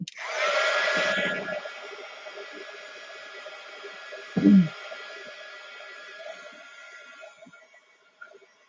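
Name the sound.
drying with a hair dryer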